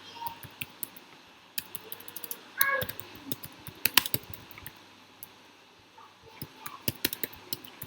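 Sparse, light taps and short clusters of keystrokes on a computer keyboard, quiet and close, with gaps between bursts and a faint tonal squeak at one point.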